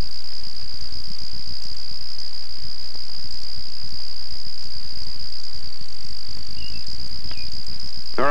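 Grasshoppers chirp in a continuous, high, steady insect trill that stays loud and unbroken throughout.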